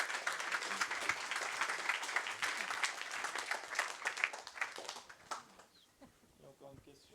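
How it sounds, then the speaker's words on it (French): Applause from the audience at a forestry committee's general assembly, dense clapping for about five seconds before it thins out and a voice comes in. "C'est la fiscalité qui vous a fait applaudir."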